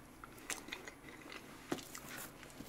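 Chocolate cake being eaten, a few soft bites and chewing sounds heard up close in a quiet room, with no talking.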